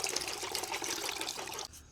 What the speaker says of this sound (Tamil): இப்போ நம்ம இதில் கொஞ்சம் தண்ணியை ஊற்றிக்கலாம்